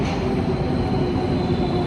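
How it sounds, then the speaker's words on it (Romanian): A metro train in Milan rumbles steadily with rail noise and a thin high squeal, loud and continuous throughout. "Și am zis să încercăm cu metrou."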